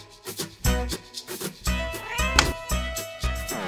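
A cat meows repeatedly, a series of close, clear mews in quick succession, some drawn out and rising, alone without any talk.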